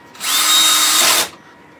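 A power drill whirs for about a second as it drives a screw into MDF on a woodturning sanding table, a steady, close, loud burst that starts and stops cleanly with no talk over it.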